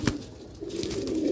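Pigeons cooing softly at close range, a low droning coo that swells and carries on, with a brief sharp sound at the start.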